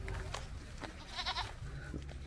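A goat bleats with a short wavering call near the middle, heard close amid a lively outdoor scene with a low rumble underneath, at a Philippine gathering with a pig roast.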